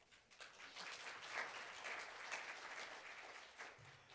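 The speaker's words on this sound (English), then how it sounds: "Please welcome with applause." Forum audience applauding to welcome a speaker, continuous clapping at a fairly faint, distant level that holds steady for about four seconds with no talk over it.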